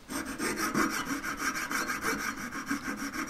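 A hand saw cuts through metal for a ring. The strokes are steady, rhythmic and back-and-forth, close up and fairly loud, with no voices.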